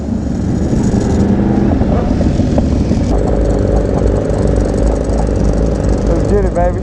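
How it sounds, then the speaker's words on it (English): A sport motorcycle engine on a Miami group ride with a Yamaha R1, S1000RR, CBR1000RRR, V4SP2, ZX6R and V4S drones loudly and steadily with a rising rev near the end, while someone talks over it. "Listen to this freaking bike."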